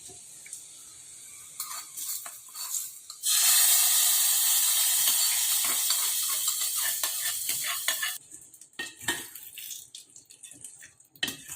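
Hot tempering oil poured into mango pachadi bursts into a loud, steady sizzle lasting several seconds before it dies back to clinks and soft stirring, with no talking.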